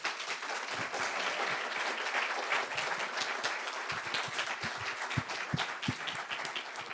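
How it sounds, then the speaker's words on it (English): An audience at a panel discussion in a theater applauds steadily for several seconds, a dense wash of many hands with a few louder individual claps standing out near the end. "can we have a round of applause for our geniuses?"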